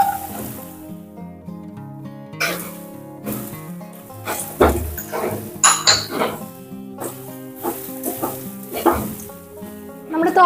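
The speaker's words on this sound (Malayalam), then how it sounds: "ഇതിലേക്ക് നമ്മൾ നേരത്തെ എടുത്തു വെച്ചിട്ടുള്ള ക്യാരറ്റ് ചേർത്ത് കൊടുക്കുന്നുണ്ട്" Carrot added to onions sizzles in a pan for a mulberry leaf thoran. Close, uneven frying comes with repeated clinks and scrapes of a spatula stirring against the pan.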